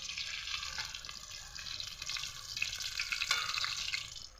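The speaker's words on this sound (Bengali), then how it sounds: "এদিকে আমি চপ ভেজে নিচ্ছি" Chili chops (lanka chop) deep-frying in hot oil, a steady, close bubbling sizzle with faint hissing crackles, no voices.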